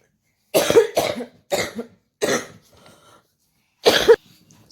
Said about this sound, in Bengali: সরি তো এরকমই কাশি হচ্ছে, এর থেকেও বাজেভাবে কাশি হচ্ছে